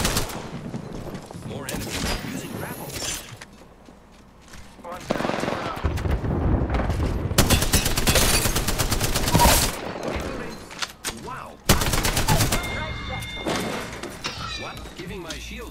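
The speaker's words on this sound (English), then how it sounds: "I just don't have to stop shooting." Rapid automatic gunfire from a paintball gun in a video game, sustained bursts with short breaks and clear cuts between them, loud and close, with a player talking over the shooting at times.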